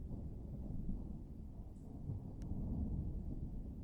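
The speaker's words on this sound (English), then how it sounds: "You can hear thunder" Distant thunder rumbles low and steady beneath light rain, a continuous soft wash with no voices over it.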